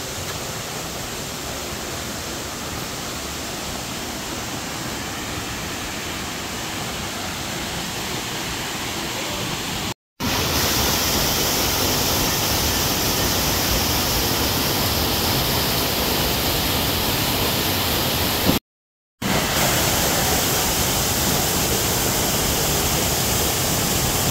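Soormane Waterfalls near Kalasa in the Kudremukh area roars as a loud, constant rush of falling water, steady throughout with two brief cuts of silence.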